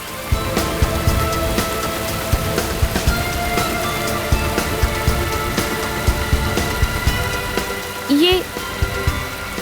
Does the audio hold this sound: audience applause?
no